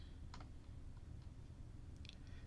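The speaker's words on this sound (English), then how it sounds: "So you press a key on the keyboard, any key be fine." Soft clicks of a computer keyboard being typed on, a few scattered keystrokes, faint and close, over a steady low background hum.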